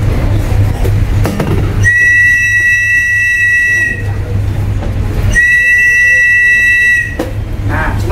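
A plastic safety whistle from a ship's life jacket is blown in two loud, sustained shrill blasts, each about two seconds long, over a steady low background hum aboard a boat.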